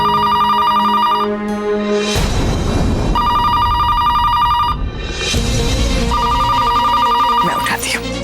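A telephone rings in repeated electronic bursts, loud and close, with pauses between the rings, over background music and other indoor sounds.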